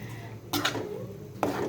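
A spoon scrapes and clinks against a pan while stirring blended chili sambal over a high flame for noodles, two brief metallic knocks over a steady low kitchen hiss, close and moderate in level.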